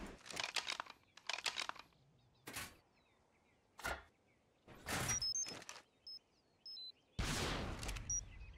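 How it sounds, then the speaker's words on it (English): A rocket launcher is reloaded in ARK: Scorched Earth with a series of short, crisp mechanical clacks, slides and clicks. They come in separate bursts with pauses between, and faint electronic beeps sound among them. "This is a reload"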